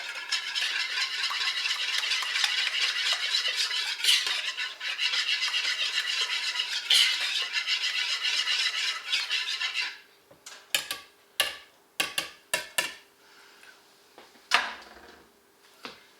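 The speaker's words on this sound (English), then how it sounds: "I am going to whisk this all together." Dry cookie mix ingredients are whisked in a bowl: about ten seconds of fast, continuous rhythmic scratching and rattling, then a string of separate sharp taps and clinks against the bowl, close and without speech.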